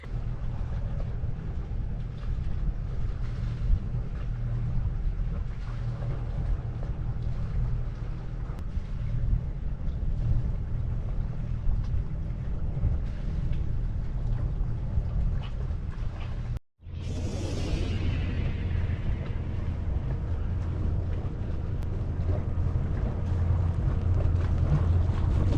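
Sailboat under way on a Norwegian fjord, a steady low rumble of hull and water under constant wind buffeting on the microphone, with a brief dropout partway through before the wash resumes, no voices.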